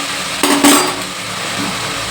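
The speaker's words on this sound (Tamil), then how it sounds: "நல்லா கிண்டி விட்டுக்குருவோம்" Ginger garlic paste stirred into biryani masala in a cooking pot, heard as a short clatter and scrape of the spoon against metal, then a quiet background.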